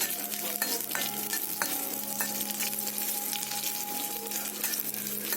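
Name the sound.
okra (bhindi) frying in hot oil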